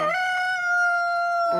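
A single loud rooster crow rings out clearly, one long sustained call close by with nothing else around it.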